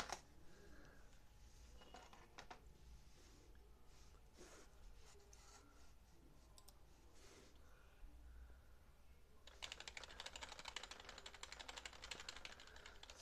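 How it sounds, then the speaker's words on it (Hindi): Typing on a Rapoo X1800 wireless keyboard, with faint scattered key clicks at first that give way to a denser, steady burst of rapid keystrokes toward the end, close and fairly quiet with no talking. "मैं आपको थोड़ा सा टाइप करके दिखाता हूँ किस तरह से कीबोर्ड चलता है।"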